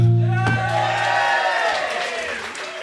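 A crowd at a Richmond football club night claps and cheers, with steady applause filling the room at close range and a voice talking over it.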